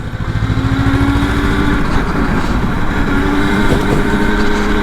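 A 4RGE M2 electric motorcycle prototype runs its motor, a steady loud hum with a sustained whine and rumble held at constant level, with no talk over it.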